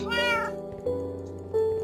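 A cat in the Minecraft video game meows three times in quick succession, clear and close, with a low hum underneath.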